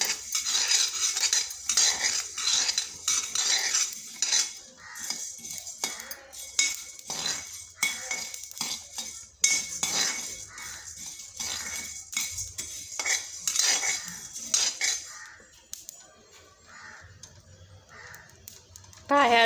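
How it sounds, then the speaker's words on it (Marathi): Coriander seeds and whole spices dry-roast in a pan over low heat, giving a steady crackle and clink of a spoon stirring against metal, all under continuous close talk. "ह्या धन्याचा आवाज येत आहे, एवढा खूप सुंदर वास येत आहे। हे धने भाजल्या जात आहेत"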